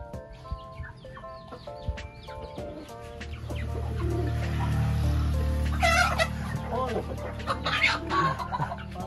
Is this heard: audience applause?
no